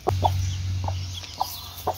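A hungry mother hen clucks in short, soft bursts, four or five spaced calls over a steady low hum.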